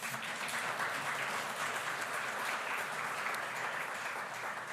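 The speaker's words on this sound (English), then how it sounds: "Another big round of applause, friends and relatives." Steady audience applause from a crowd at a conference fills the space, dense and continuous throughout with no pause or talk over it.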